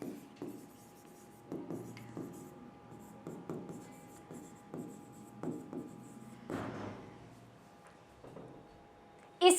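Chalk or marker strokes on a board during a Hindi-language biology lesson on the female reproductive system, a run of short scratchy writing taps and rubs with a brief pause, close and moderately loud, with no speech over them.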